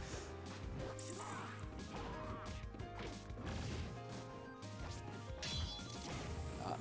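Forward smash attacks land in a Super Smash Bros. Melee match between Marth and Mario/Fox at a beach tournament, heard as repeated sharp smacking crashes over continuous game music and crowd noise.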